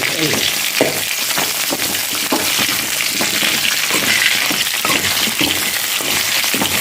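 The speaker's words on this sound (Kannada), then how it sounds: "ಬದನೆಕಾಯಿಯನ್ನು ಸಣ್ಣ ಉರಿಯಲ್ಲಿಟ್ಟು ಉರಿಬೇಕು" Brinjal fries in oil over a low flame, giving a steady, dense sizzle with bursts of crackle and occasional stirring scrapes throughout.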